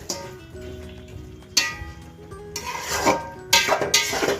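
Lentils go into a cooking pot for sabudana khichdi, landing with a couple of sharp metallic clanks, scrapes and rattling clinks against the pot, close and clear.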